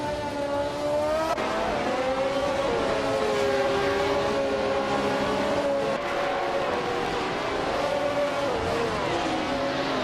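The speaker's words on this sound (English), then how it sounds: "Princess Wildface is driving a March 711 Alfa Romeo" Racing cars in a video game race, a continuous engine drone with rising and falling pitch as the cars lap, steady and loud throughout with no talk.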